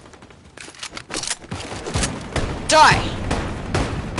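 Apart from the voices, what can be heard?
gunfire in Fortnite video game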